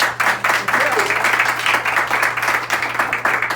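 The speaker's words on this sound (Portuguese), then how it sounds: "Eu aqui agradeço os aplausos" An audience at a talk event applauds with steady, dense clapping throughout, fairly loud and sustained, while a voice talks faintly beneath it.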